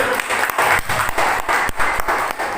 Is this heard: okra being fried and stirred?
no